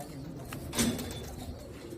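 Salara teddy pigeons cooing, one soft, low, throaty coo rising briefly out of a quiet outdoor background with faint distant chirps, no talking.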